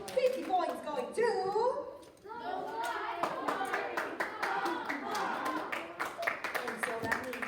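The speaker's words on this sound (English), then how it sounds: "Let's give Kyle a big round of applause, guys" Classroom applause for a student named Kyle, a burst of clapping hands mixed with children's voices and chatter, fairly close and steady throughout, with some talking over the top.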